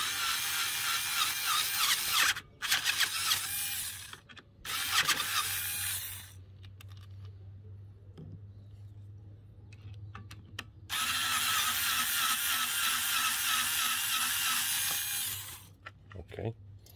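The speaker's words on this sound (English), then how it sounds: "Then you can use your power tool to remove the screws." A power tool runs in several loud bursts, each a few seconds long, as it backs the screws out of the left-side bracket on a SUR-RON electric dirt bike during pedal kit installation. Quieter handling noise fills the pauses between bursts.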